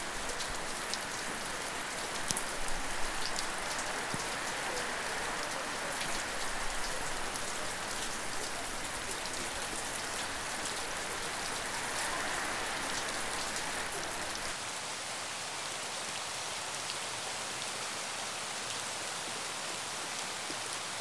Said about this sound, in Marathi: छान पाऊस पडतोय.